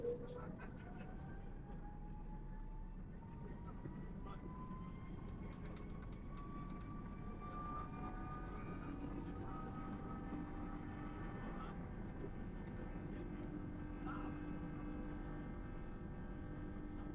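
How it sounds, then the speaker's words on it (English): Airbus A330 jet engines on takeoff, heard from inside the cabin: a steady, fairly quiet roar with a rising whine as the aircraft climbs, continuous and without talk. "Just listen to these beautiful engines get us aloft."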